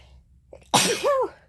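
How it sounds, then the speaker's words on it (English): A single sharp sneeze bursts out after a quick inhaled breath, close and fairly loud, then cuts off. "I'm going to sneeze."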